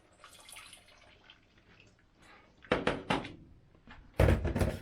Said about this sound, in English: I'm gonna add a little bit more water to this